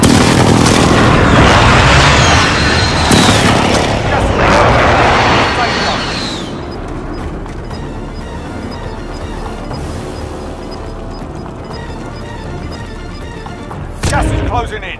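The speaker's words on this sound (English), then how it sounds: "Be advised, friendly precision airstrike inbound." Cluster bomb airstrike explosions from a video game, a loud rolling series of booms and blasts over about six seconds, then quieter background ambience and a final burst near the end.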